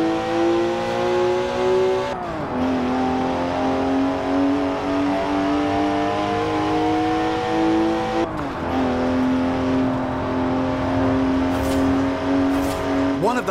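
A rear-wheel-drive BMW in the racing game Forza Horizon 4 drives with a loud, steady engine drone that rises through the gears, dropping sharply at two shifts before climbing again.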